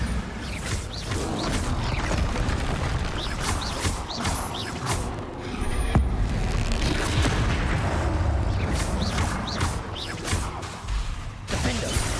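Bombarda blasting-spell explosions in the video game Hogwarts Legacy, a dense, loud stretch of booming blasts, crashes, creaks and whooshing debris running continuously for about twelve seconds.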